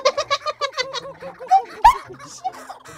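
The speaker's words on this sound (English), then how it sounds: "Kookaburra fight." Kookaburras squabble and call at close range, a run of rapid, rising cackling bursts with a sharp loud cry near the middle, then scattered softer chuckles.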